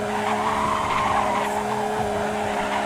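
Tires squeal and skid continuously as a car spins donuts in the mobile driving game Car Driving Indonesia, a loud, sustained screech over a steady engine drone.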